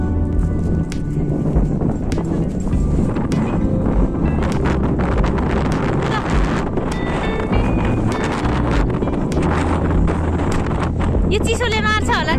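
Strong, cold wind buffets the microphone on a hillside road near Temke, a steady roaring rumble lasting throughout, with other faint background sounds mixed beneath it.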